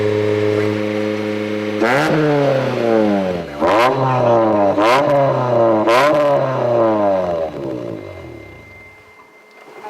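A car engine revs hard and loud through its exhaust, climbing and dropping in pitch about four times, held near 3,000 rpm during a police noise test reading 106.5, before settling back toward idle.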